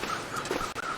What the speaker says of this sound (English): These crows fly over corpses.